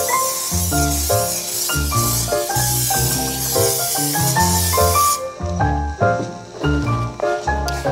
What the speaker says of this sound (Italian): metto la colla spray.